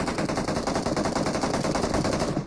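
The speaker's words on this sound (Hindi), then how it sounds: "अब हल्की बहुत गोली चलती है" Gunfire in the mobile battle royale game BGMI: a rapid, unbroken burst of automatic shots, evenly spaced and fairly loud, with no talk over it.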